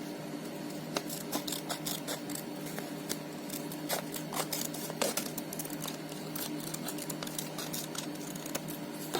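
Scissors snip through paper to cut out a watermelon-shaped corner bookmark, a close, quiet run of quick crisp clicks and slicing strokes repeating steadily.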